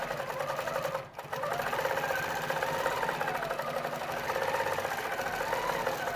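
A Q'nique 19 quilting machine stitching across a quilt, a steady, fast mechanical needle chatter with motor hum that runs continuously, close and loud, with one brief dip near the start and no talking.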